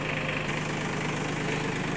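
A three-cylinder Iseki TG-233 tractor engine idles with a steady low throbbing knock and broad mechanical hum, loud and close, continuous with no voices.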